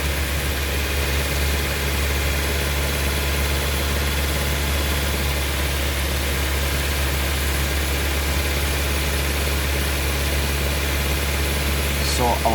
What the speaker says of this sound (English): So our engine is warming up